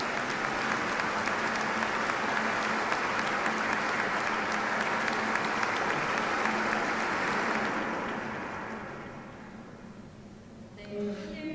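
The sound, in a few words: audience applause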